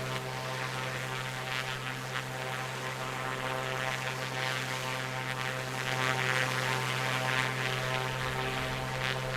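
A2A Comanche single-engine propeller plane droning steadily at max throttle in flight in Microsoft Flight Simulator, a continuous even engine hum with a strong low tone, no talk.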